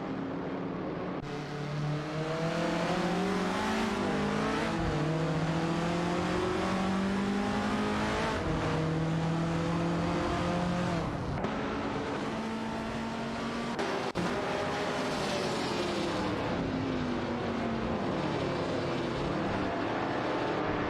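Several race cars, including Lancia Stratos, roar through a racing video game, their engines loud and continuous with rising and falling revs as cars close in and pass one another, with no voices.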